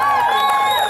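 A crowd cheers at a Barbados sports complex naming ceremony, loud and close, with sustained whooping voices rising and falling over the brief moment.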